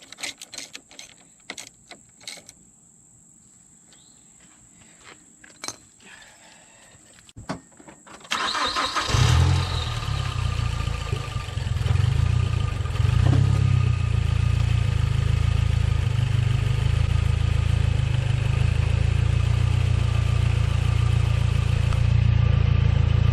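A Mazdaspeed 3 fitted with MSD coils sits quiet with a few clicks and a faint whine, then the engine cranks, catches and settles into a loud, steady idle close by.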